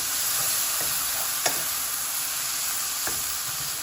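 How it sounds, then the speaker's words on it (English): Tomatoes saute in a pan for a coconut shrimp curry, a constant loud sizzle with a couple of brief spatula stirs scraping through it, no talking. "Give that a nice saute."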